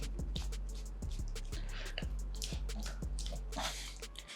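Water drips from an iQOO Z7 5G phone as it is shaken, a series of quiet, separate drips and small splashes at an uneven rhythm, close by and with no voices.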